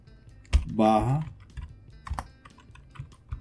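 Keys clatter on a computer keyboard as a shell command is typed into a Debian host to open bash in a container, a few light, sparse taps around a brief spoken voice.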